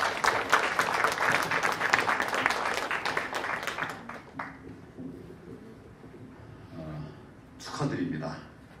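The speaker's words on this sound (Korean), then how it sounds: "여러분 큰 박수 부탁드립니다." Audience applause at an indoor concert and ceremony, dense steady clapping for about four seconds that fades out, followed by a quieter stretch with a voice speaking and a brief swell of noise near the end.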